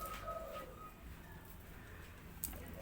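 A perkutut zebra dove coos softly in a brief phrase early on, outdoors after rain, over a low murmur of background noise with a faint click near the end.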